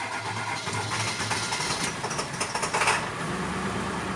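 A diesel engine cranks and fires after a glow plug cycle with a jump starter attached, catching with a quick throttle blip and settling into a rough idle, close and loud with no talk.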